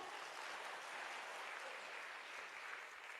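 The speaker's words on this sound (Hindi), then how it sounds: "डॉक्टर अमित दुबे गुरुदेव के लिए एक बार जोरदार तालियां" A crowd at a talk gives hearty applause for Dr. Amit Dubey, a continuous, dense wash of many hands clapping, steady and somewhat distant, with no voices.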